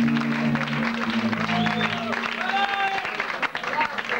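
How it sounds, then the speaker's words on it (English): Concert audience applauding at a blues show, steady dense clapping with cheers and whistles, crowd noise mixed with sustained instrument tones and some voices. "Give a round wall of applause to the star of the show this evening"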